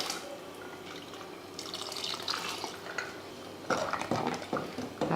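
Cooked vegetables and dal being mashed with a ladle in a pot, giving soft clinks and wet scraping that grow louder and more irregular toward the end, with no talking.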